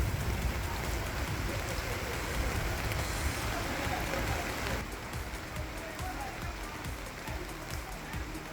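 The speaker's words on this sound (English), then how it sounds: "It's been raining here for the past 1 week" Heavy rain pouring onto a flooded street in Lakowe, Lagos, a dense continuous hiss of drops hitting water and surfaces, slightly softer in the second half, with no talk.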